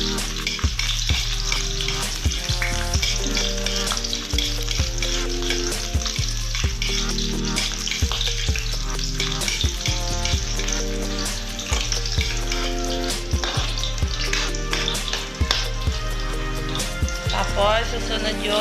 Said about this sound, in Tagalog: Gisa-gisa niyo siya ganyan.